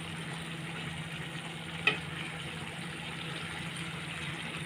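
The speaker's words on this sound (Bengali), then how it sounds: "তো দর্শক, আমি এখন মাংসগুলো কষিয়ে নেব।" Chicken pieces sauté in a pan for a Bengali potato-chicken curry, giving a steady, even sizzle throughout with one brief sharp clink near the middle and no voices.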